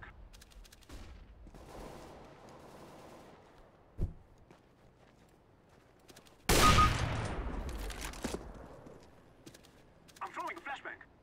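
A flashbang grenade in the CS:GO game bursts in a sudden loud broadband blast partway through, ringing and fading over a few seconds, amid scattered clicks and faint gunfire with quiet talk in the background.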